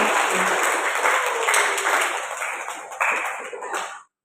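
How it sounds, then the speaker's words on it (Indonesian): A class of students bursts into dense, lively applause, loud and close, swelling briefly again before cutting off abruptly at the end. "Tepuk tangan dulu untuk kalian."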